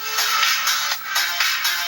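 A phone ringtone plays loud and steady for about two seconds, in repeating bright pulses with a brief dip near the middle, with no voices over it.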